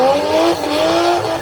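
Drag racing cars at Dragway at the Bend off-street drags roar loudly with a high-pitched engine wail and tyre squeal, a short close burst of acceleration with no talk.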